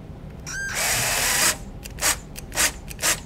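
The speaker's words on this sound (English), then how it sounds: "And we hook up our drill and we go to town." A power drill priming the engine oil pump of a 1968 Winnebago whirs in a long continuous run, then pulses in several short bursts, close and loud.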